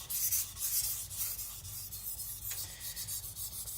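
A Tojiro Shirogami nakiri knife is being sharpened, giving a steady rasping rub of steel on stone in repeated strokes, close and fairly quiet, with no talking.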